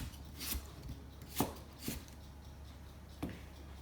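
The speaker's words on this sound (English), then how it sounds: "I'm gonna add some little carrots today too. I'm going to slice it in an angle." A kitchen knife slices small carrots on the diagonal against a cutting board, giving four or five faint, separate chops spaced unevenly over a quiet background.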